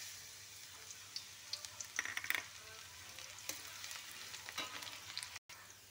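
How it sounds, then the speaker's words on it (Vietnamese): Garlic fries in hot cooking oil, crackling and popping irregularly over a steady low sizzle, with a brief cut near the end. "Dầu sôi Út cho tỏi vào."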